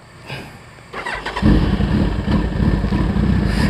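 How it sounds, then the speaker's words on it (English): A Hayabusa liter-class sport motorcycle engine cranks and fires, a quiet start giving way at about one and a half seconds to a loud, steady near idle that continues alone. "we turn the bike on, get it started"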